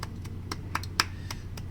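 A few hands clap in a steady, quick rhythm of sharp, faint claps against a low background hum during a post-match football talk stream.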